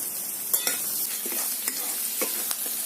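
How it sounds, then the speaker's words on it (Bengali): Onions frying in hot oil in a pan, a steady close sizzle broken by a few sharp scrapes and clinks as they are stirred, with no voices. "পেঁয়াজটাকে দিয়ে আমি লাল লাল করে ভেজে নেব"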